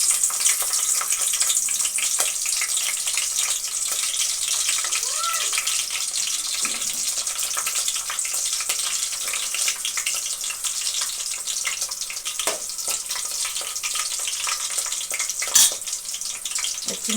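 Green chillies drop into hot oil in a bowl, setting off a bright, steady crackling sizzle that carries through, with a few sharp pops and clinks standing out along the way, close up, with no voices.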